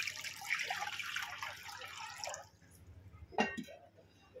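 Water poured over salted mangoes for pickle: a steady gushing pour that fades out, followed by a few light drips and clinks nearby, fairly faint.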